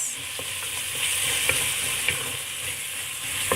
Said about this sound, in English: So give this all a good mix.